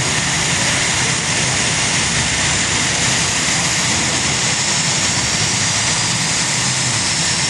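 The 5,400-horsepower engine of the pulling vehicle Plumbers Nightmare roars at a regional NCCA pull in Pinetops, a loud, unbroken, full-throated drone that fills the whole stretch.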